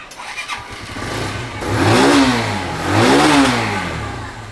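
A used 2023 Suzuki Gixxer motorcycle engine fires up and revs hard twice, each rev rising to a loud roar and dropping back to idle, close by.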